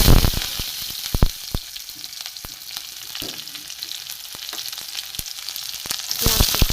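Chopped onion frying in hot oil with cumin seeds, a green chilli and a bay leaf for ghugni, a steady close sizzle with occasional sharp crackles and pops.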